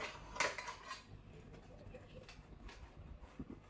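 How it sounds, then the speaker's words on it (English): A fork scrapes and clinks against a plate while cutting a freshly baked hot breadstick loaf, giving a few light, close taps and scrapes with one sharper clink near the start, and quiet talk underneath. "while it's still hot, I'm going to slice it and take my fork"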